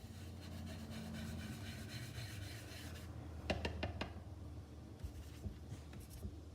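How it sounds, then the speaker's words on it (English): Crumb cake colored ink being rubbed and blended onto paper: a steady, soft scratchy rubbing close up, followed by a few quicker scraping strokes, with no talking. "I'm going to pick up some ink, and I'm going to just rub here first because I want it a little lighter."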